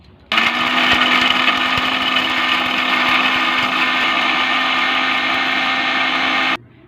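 Mixer grinder blending poppy seeds and raisins into a paste: a loud, steady motor whir with a grinding rush that starts abruptly, holds unchanged for about six seconds, then cuts off.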